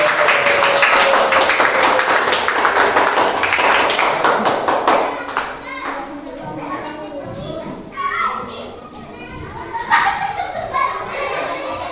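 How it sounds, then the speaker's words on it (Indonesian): A classroom group of children applauding, loud dense clapping that fills the first several seconds, then thins into scattered claps and children's chatter with an adult voice over it. "Kasih tepuk tangan dulu biar tambah semangat."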